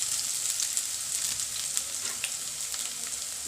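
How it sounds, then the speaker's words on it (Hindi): Garlic and ginger paste sizzles steadily in a hot pan while aloo paratha filling is cooked, a bright, continuous crackle with small spatters throughout and no voices. "अब इसमें हम लहसुन और अदरक का पेस्ट डालेंगे जो मैंने कूट के रखा था"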